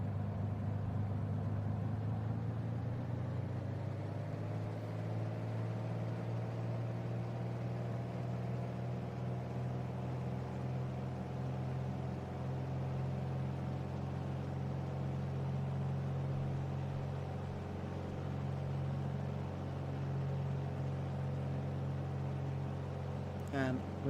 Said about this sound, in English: gently bring the engine to 2000 RPM